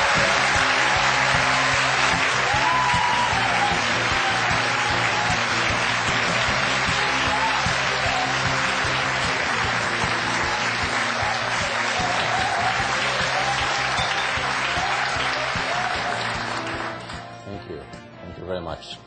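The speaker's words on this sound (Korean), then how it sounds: "힘찬 박수로 맞이해 주십시오" A lecture hall audience applauds steadily for the chief executive of S-Oil, a loud, dense wash of clapping that holds for about sixteen seconds before thinning out and fading.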